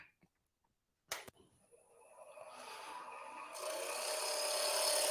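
A 1/8 inch parting tool cuts into a wood turning spinning on a lathe, smoothing the bottom. A sharp knock comes first, then a scraping hiss that builds steadily and grows louder and brighter toward the end.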